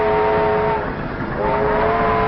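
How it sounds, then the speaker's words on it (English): A loud, steady train rumble with a sustained horn-like tone sounding, swelling again near the end, with no voices. "Look, the train came back for us."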